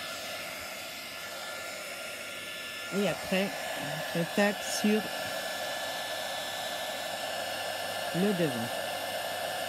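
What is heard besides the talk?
heat gun puffing up embossing powder for a snow effect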